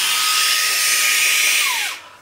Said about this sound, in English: we have a sort of blower device, which is pretty powerful